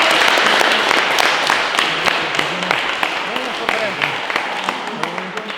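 Loud crowd applause and cheering for the winner of an MMA street-fighter-versus-pro-boxer bout, dense continuous clapping filling the hall with sharp claps standing out and voices mixed in throughout.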